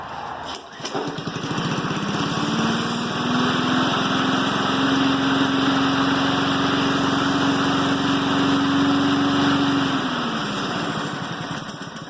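A small Yard Machine lawn mower engine, under rebuild, runs steadily at a loud, even idle for several seconds, then winds down near the end.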